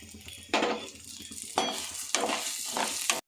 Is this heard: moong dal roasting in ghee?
yes